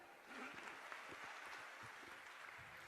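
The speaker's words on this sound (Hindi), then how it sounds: "ताली बजाइए" A large gathering at a spiritual question-and-answer session claps in response to a good question, a faint, distant, continuous patter of many hands with some low rumbling thumps underneath.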